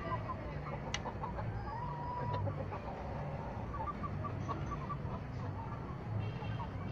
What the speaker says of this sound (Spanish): De la gallina que ustedes están viendo acá.